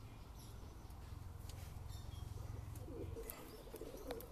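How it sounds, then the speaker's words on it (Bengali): Madras pigeons cooing nearby, a low, soft, continuous purring coo with faint chirps and small rustles mixed in, no speech. "ম্যাড্রাসের এক জোড়া শখ করুন বন্ধুরা, পায়রা জোড়া দেখানোর চেষ্টা করি"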